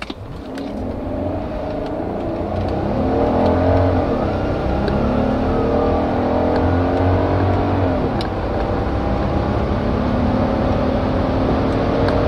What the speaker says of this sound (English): there's no launch control, we just floor it and see how good this goes